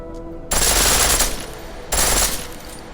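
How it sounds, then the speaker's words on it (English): A pistol firing on full auto in the video game Deus Ex Mankind Divided, two loud sustained bursts of rapid gunfire, the first over a second long and the second a little shorter, with no talking. "The pistol in full auto will take down targets fast, but it'll burn through your ammo"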